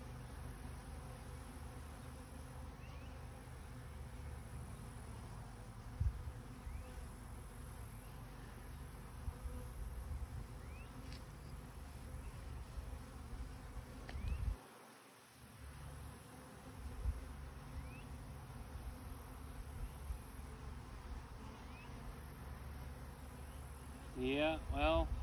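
Honeybees buzzing around a frame pulled from a very busy hive, a steady, close insect drone that fills the whole stretch with a brief dip partway through, while people talk quietly now and then.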